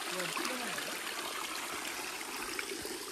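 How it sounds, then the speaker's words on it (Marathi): A natural spring stream flows steadily through a Konkan village, a continuous close rushing and trickling of water with no voices. "हा नॅचरल झरा"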